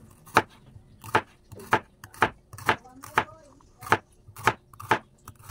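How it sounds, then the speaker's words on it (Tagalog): A knife slices bitter gourd (ampalaya) thinly on a cutting board in about nine crisp, evenly spaced chops, with a voice speaking between them. "Hiwain lang natin ng ganito guys. Medyo manipis lang."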